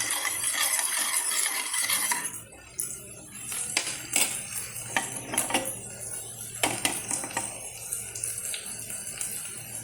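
A spoon stirs spinach soup in a metal pot, with repeated scraping and clinking against the sides, light sloshing, and a few sharper taps, close and moderately loud.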